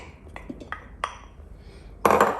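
A spoon stirs Christmas pudding mixture with fruit and glacé cherry in a bowl, giving scattered light clinks against the bowl and ending in a louder, busier burst of scraping and clattering.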